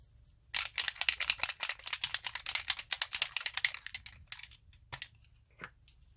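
A can of tarnished brass spray paint shaken hard by hand, the mixing ball rattling in a rapid burst for about four seconds, close and loud, then a few last clicks.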